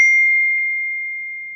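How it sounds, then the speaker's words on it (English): A phone's text message alert sounds once as a single clear bright ding that rings on and fades slowly into silence. "Somebody's texting me."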